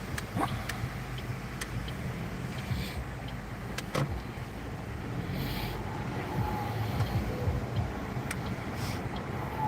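Cars drive past on a road in Auckland, a continuous low tyre and engine rumble heard from inside a moving vehicle with wind buffeting and occasional clicks and knocks.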